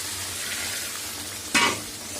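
Egg curry masala with green chillies and eggs sizzles steadily in a pan as it is stirred, a soft continuous frying hiss broken by one brief louder scrape of the spoon.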